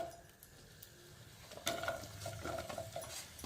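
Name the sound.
onions frying in hot oil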